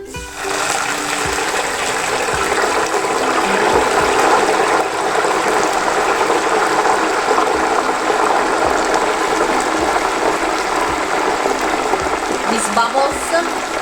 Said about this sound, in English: These bubbles are because the temperature of the oil goes down.